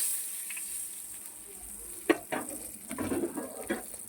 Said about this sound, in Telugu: కొద్దిగా ఆయిల్ ఆవాలు వేసి పోపు పెట్టుకున్నాను